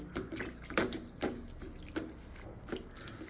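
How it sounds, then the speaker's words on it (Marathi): Holy basil (tulsi) leaves are rinsed in water, giving a few separate splashes and swishes at uneven intervals, close and fairly quiet, with no talking. "सर्वात आधी तर मी धुवून घेते चांगली तुळशी, स्वच्छ धुणार आहे 2-3 पाण्याने।"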